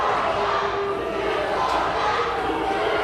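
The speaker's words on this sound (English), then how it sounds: "Sounds like the crowd doesn't like either one of them." A wrestling crowd at a live show reacts with a steady, dense roar of booing and shouting that fills the whole moment without a break.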